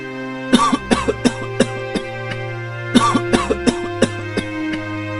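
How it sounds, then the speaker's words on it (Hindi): A cartoon character's fit of harsh coughing in two bursts of several coughs each, over a steady droning musical background. "ये खांसी तो बढ़ती ही जा रही है"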